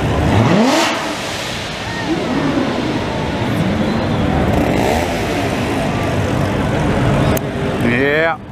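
A G35 car revs with rising engine sweeps while cruising through busy Montreal streets during Grand Prix weekend, among other passing traffic, with people talking throughout.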